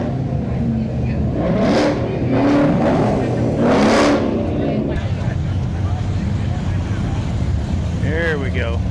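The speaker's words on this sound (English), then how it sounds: "Little Paxton supercharger on that old Mustang." An old Ford Mustang fitted with a Paxton supercharger runs nearby with a steady engine drone and a few rising revs, mixed with crowd chatter and other car noise.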